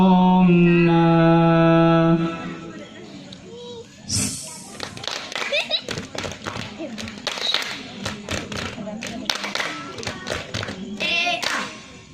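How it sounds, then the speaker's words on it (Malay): Hand clapping in a Rabbani Wahed Acehnese dance, performed by children: sharp, rhythmic claps and slaps in quick synchronized bursts after a sung passage, close and loud, with chanting voices between the strikes. "Tepuk tangan."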